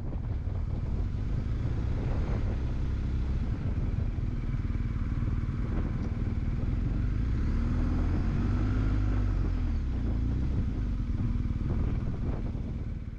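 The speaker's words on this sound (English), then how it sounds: "I watched as the rider in front of me tried to control his motorcycle at slow speeds" A motorcycle ridden at slow speed, its engine a low, steady rumble under constant wind buffeting, with a slight swell in the middle and no talking.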